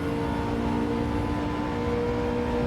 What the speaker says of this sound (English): Listen to that V8.